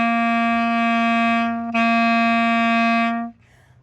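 Clarinet playing the first two measures of Aunt Rhody: two long, steady sustained notes with a brief break between, close and loud, fading into quiet room noise.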